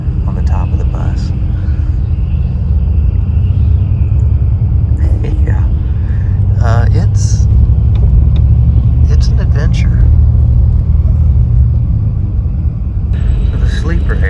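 A sleeper bus in Vietnam rumbles steadily on the road, heard from the swaying upper berth, with a deep continuous engine and road drone under occasional rattles and a quiet voice speaking over it.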